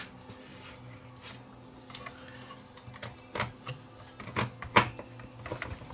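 Screws being driven in to secure a transformer inside an Onkyo Integra A8190 amplifier, a close series of small ticking and clicking bursts from a screwdriver against metal, quiet and irregular, with no voices.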